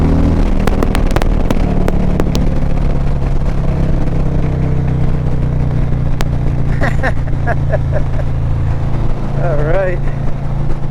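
Harley-Davidson motorcycle engine roars loud and close in a sustained drone as the bike accelerates past another rider in the left lane, with wind rush and brief speech heard over it.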